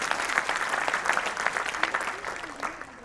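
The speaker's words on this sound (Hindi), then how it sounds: "देखिए आपने ताली बजाई भावुकता में आकर" Audience at a Hindi comedy poetry gathering (hasya kavi sammelan) bursts into sustained applause, a dense wash of clapping that holds steady for about three seconds with no speech over it.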